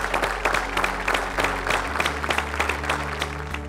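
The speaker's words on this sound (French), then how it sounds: "On peut les applaudir." Audience applause at an honorary doctorate ceremony at the Université catholique de Louvain, a sustained crowd clapping with dense, steady hand claps filling the whole stretch and no speech over it.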